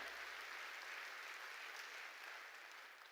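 A church congregation claps together during a Korean sermon, a soft, uniform patter of many hands heard from a distance that continues throughout and tapers slightly at the end.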